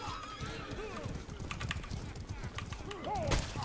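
Horse hooves clop in the medieval combat game Mordhau, quick irregular hoof falls mixed with game clatter and a brief whinny-like tone near the end, under a player's voice talking over the action.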